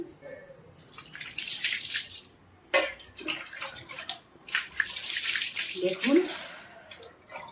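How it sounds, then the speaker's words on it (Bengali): Brass and copper utensils being rinsed with water after scrubbing with lemon and salt, bursts of splashing and pouring water with brief clinks between quieter pauses. "এবার জল দিয়ে ধুয়ে দেখাচ্ছি"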